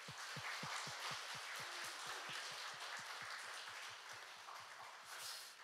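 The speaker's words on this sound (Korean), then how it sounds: "우리 박수 한번 쳐주시기 바랍니다" A church congregation at a Sunday worship service claps together in a fast, steady rhythm, with sharp, regular beats over a dense wash of room noise throughout.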